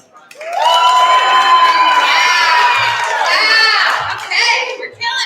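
A fundraiser crowd voting by applause erupts in loud cheering, whoops and high shouts over clapping, swelling quickly and then easing into scattered calls near the end.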